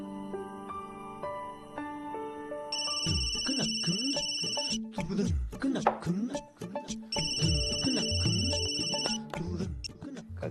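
A home telephone rings in a repeating electronic ringtone pattern of bright, evenly spaced tones. A musical score plays beneath it, and clattering sounds break in partway through.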